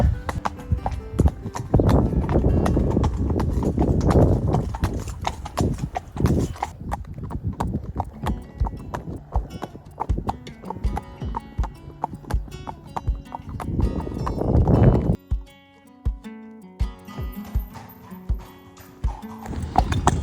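Horse hooves clip-clop on a hard road through a small Pennsylvania town in a steady rhythm with a broad rumble of motion; later the clopping stands out more sharply and evenly on its own.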